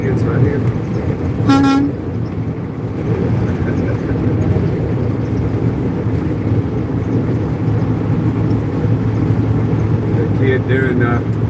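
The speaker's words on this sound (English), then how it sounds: "Doing the air horn pump." A single short truck air horn blast sounds around two seconds in over steady engine and road rumble, with a fainter tonal honk near the end.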